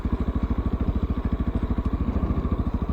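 A Honda XR650L dual sport motorcycle rolls downhill on gravel, its big single-cylinder engine thumping in a fast, steady, even pulse, loud and close, with no voices over it.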